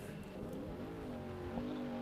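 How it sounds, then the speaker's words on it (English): Trophy truck accelerating hard off the start line at a SCORE Baja 400 desert race qualifier, a loud, steady engine roar with a rising harmonic whine and no voices. "Off the line here, we've got the 65T piloted by Greg Adler."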